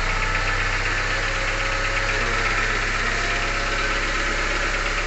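A repaired 1999 Honda Civic engine idles steadily and loudly with a constant, even rumble and a faint rhythmic knock throughout, with no talking.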